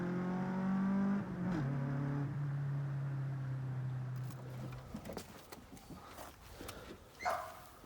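A Mazda Miata with a Honda B20 engine swap accelerates down a road, its throaty engine note climbing through the gears loud and close before fading into a quieter mix of passing road and tire noise.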